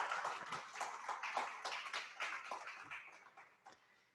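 A room full of guests at a community Thanksgiving luncheon gives a round of applause, a dense, steady patter of many hands that starts strong and gradually thins and fades over a few seconds.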